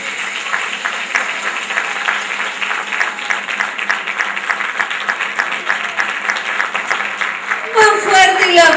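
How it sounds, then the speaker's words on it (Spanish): A crowd claps steadily at a clown festival in Tandil, a continuous, even patter of many hands; near the end a voice breaks in over the fading applause. "Más fuerte el aplauso para los payamédicos"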